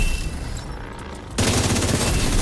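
Sniper gunfire in a video game arrives as a sudden loud, dense burst of shots partway through and carries on to the end over a softer ambient backdrop.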